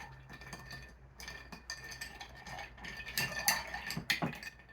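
A metal bar spoon stirring a cocktail in a glass, faint light clinks and tinkling taps recurring irregularly, quiet and close, with a low background hum.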